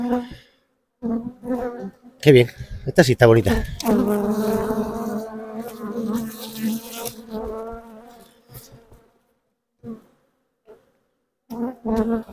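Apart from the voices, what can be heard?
honey bees buzzing around hive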